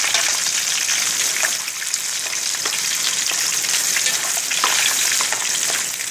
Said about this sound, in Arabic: نحمر اللحمة كويس